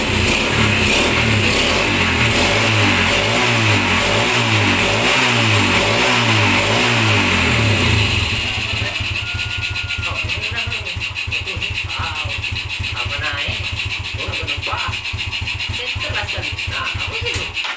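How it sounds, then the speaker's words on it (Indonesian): A Yamaha Vega motorcycle, run without its battery, is kick-started and catches: rhythmic cranking chugs for several seconds, then the engine fires into a steady, loud idle close by. "Jadi nah, kita engkol"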